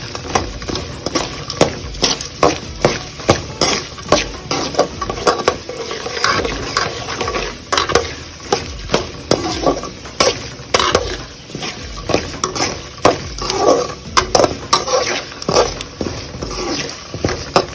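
Dal and spices sauté in a pan for lemon rice, with a steady low sizzle and frequent sharp clinks and scrapes of a spoon stirring against the metal, close and fairly loud throughout.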